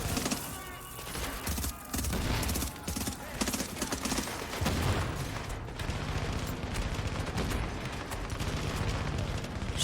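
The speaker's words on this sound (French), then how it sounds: "De toute façon, je me fais tirer sur le côté." Gunfire strikes the player from the side during a firefight in The Division's underground missions, a dense, continuous barrage of loud shots and impacts mixed with game effects.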